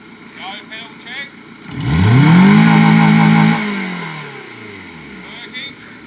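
A car engine revs up sharply as the accelerator is pressed, holding a loud, rising roar for about two seconds before falling away, with quieter mechanical noise before and after.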